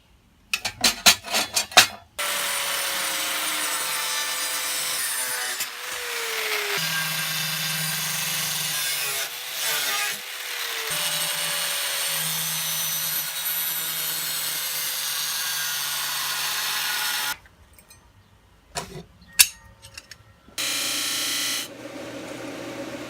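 A salvaged metal telescoping slide gets cut to size, with long stretches of loud, harsh cutting noise broken by short gaps and sharp clanks of metal being handled, alone with no talk.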